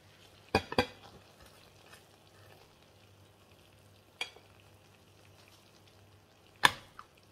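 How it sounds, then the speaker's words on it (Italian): Stuffed lumaconi pasta filled with spinach and parmesan sizzles in a pan after baking, a faint steady hiss broken by a few sharp crackles and pops, heard alone without talk. "Senti come sfrigola."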